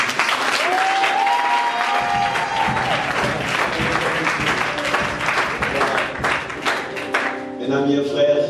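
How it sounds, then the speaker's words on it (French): A church congregation applauds, with steady dense clapping that carries on through the whole stretch alongside raised voices and cheering. "Je veux d'abord qu'on acclame le Seigneur pour le prophète Ézéchiel qui est venu du Cameroun"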